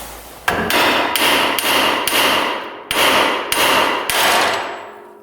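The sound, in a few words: hammering part off Polaris Ranger steering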